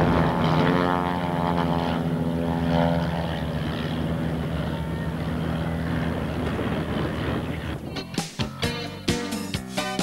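A propeller aircraft flies past at an air show in Halmstad, a loud steady engine drone that sweeps by and fades, followed by a few sharp bangs and crackles near the end.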